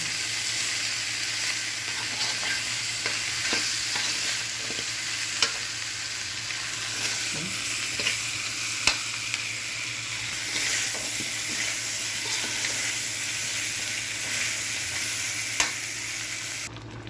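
Liver spread stirred and sautéed into the sauce of a pork ribs caldereta in a hot pan, giving a steady close sizzle with occasional scraping stir clicks throughout.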